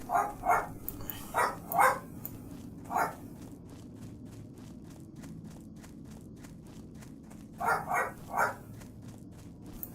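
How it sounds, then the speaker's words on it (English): A dog barks in short bursts, a quick cluster of loud barks early on, then a long quiet stretch before another group of barks near the end, with no talk over them. "What's the dog barking at?"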